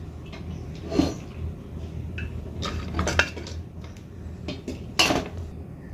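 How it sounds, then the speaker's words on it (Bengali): Cooked rice goes into a cooking pot for chicken biryani, with a spoon knocking and scraping against the metal rim. A few clear clanks come at intervals among softer shuffling, close by in a quiet kitchen. "হাঁড়ির মধ্যে আমি ভাতটা দিয়ে দেব"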